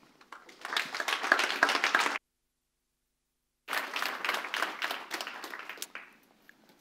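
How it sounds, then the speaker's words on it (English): Audience applause for speaker Michael Geer at a talk, a full, dense burst of clapping from a crowd, cut by a brief silence before the clapping resumes and fades out. "A huge round of applause to Michael."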